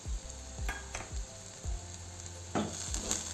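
Spiced potato filling sizzles in a pan while a spoon stirs and scrapes it, making a steady close-up frying hiss broken by several rhythmic scraping knocks. Nobody speaks.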